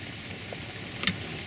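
Steady hard rain falls around a 2016 Honda Fit GK parked outdoors, a dense even hiss of drops with one brief closer tap, no voices.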